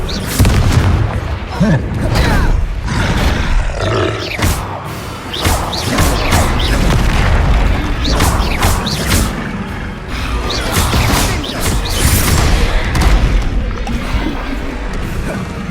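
Repeated blasts and crashes from the Confringo spell in Hogwarts Legacy gameplay burst in quick succession, loud and near, mixed with whooshes and a voice calling out over them.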